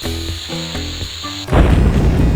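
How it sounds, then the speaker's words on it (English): A bomb detonating in the MS-DOS game Lode Runner: The Legend Returns: a short run of synthetic stepped tones breaks into a loud, noisy burst that rumbles on briefly. "It is very possible and very likely to blow yourself up with these bombs"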